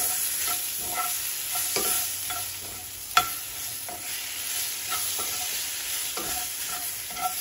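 Chopped onion with garlic salt sautéing in butter in a pan, a steady close sizzle broken by a few clicks of stirring, with no voices.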